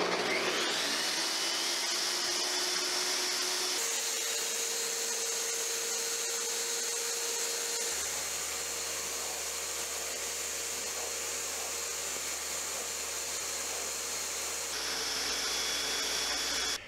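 Dust extractor vacuum with its long hose attached to an IQ dry-cut tile saw, a loud steady whooshing roar close by that shifts pitch slightly as the hose opening changes, running without a break and with no talk.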